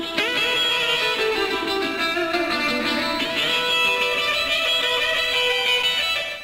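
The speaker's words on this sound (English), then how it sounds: "See, it's such a great sounding reverb." Electric guitar playing a rhythm part through a Spring 1 reverb effect with heavy delay, with sustained ringing chords and a dense, washy tail filling the space throughout, loud and continuous with no talking.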